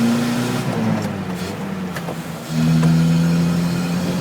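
Mazda 1000 car engine converted to a carburetor, heard from inside while accelerating with intake noise: a loud, steady engine tone that dips, then surges again as the revs climb.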